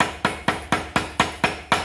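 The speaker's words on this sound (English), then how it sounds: "I'm going to use my welding crossbeam hammer. And it's simply, you're going to gently cup it out a little" A crossbeam welding hammer strikes an annealed metal blank to cup it, eight sharp evenly spaced blows ringing out close and loud in a steady rhythm with no talk.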